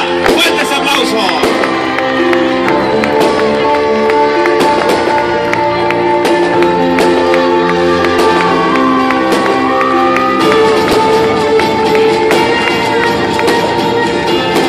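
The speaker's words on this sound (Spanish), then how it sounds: "¡Fuertes aplausos!" Audience applause and cheering fill the hall at a children's and adults' carnival queen election in Barrial, Gáldar, loud and continuous over steady music throughout.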